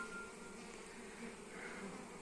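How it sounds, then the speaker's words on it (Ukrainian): Honey bees buzz steadily close by at a hive with a late swarm, a continuous droning hum that swells slightly partway through. "Ось бджола заходить."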